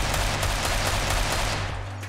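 A shooter video game weapon sprays with recoil switched off, a dense, loud, continuous stream of rapid shots that tapers slightly at the very end, with no voices.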